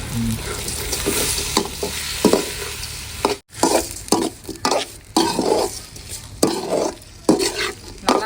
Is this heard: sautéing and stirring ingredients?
yes